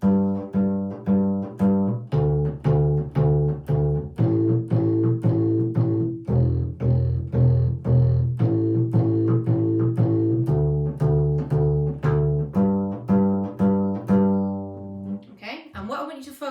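Pizzicato double bass notes in a steady, even pulse, moving across strings with a full, resonant low tone and no gaps, played alone.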